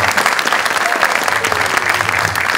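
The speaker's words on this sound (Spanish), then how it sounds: "Sí, un aplauso." A comedy show audience breaks into loud, close applause, a thick uninterrupted clatter of many hands that stays strong and even from start to finish, with faint crowd murmur mixed in.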